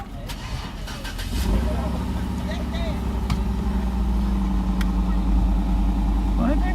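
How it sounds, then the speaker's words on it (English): Several cars start up and settle into idling on a nighttime police patrol, engines cranking then rumbling steadily and fairly close, with people talking over the noise. "since I turned those lights on, a lot of cars started up"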